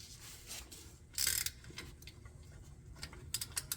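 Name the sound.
ratchet with 14 socket removing axle bolts, Toyota Tundra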